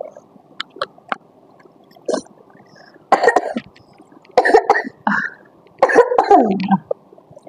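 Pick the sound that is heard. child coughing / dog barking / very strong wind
child coughing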